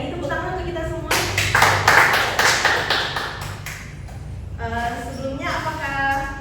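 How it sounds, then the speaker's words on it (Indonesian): A group at the close of a training session breaks into a short burst of hand clapping that swells and fades over a few seconds, with someone speaking before and after. "Tepuk tangan untuk kita semua."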